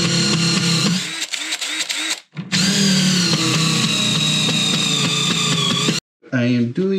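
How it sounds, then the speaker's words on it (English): Power drill boring a countersink hole in wood while fastening a piece to a wall, a loud, steady whining drone running several seconds with brief stops and a short final burst, close to the listener. "I am pretty much doing a countersink hole that is going to allow me to put this and secure it to the wall"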